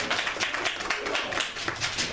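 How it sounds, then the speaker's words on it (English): An audience at a Kwanzaa celebration gives a short round of warm applause. Fairly quiet, dense clapping lasts about two seconds without a break. "Give yourselves a big, warm round of applause."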